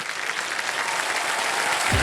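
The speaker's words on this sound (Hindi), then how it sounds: "तालियां बज रही थी." Studio audience at a televised quiz show applauding, a continuous dense wash of clapping filling the short stretch at an even level.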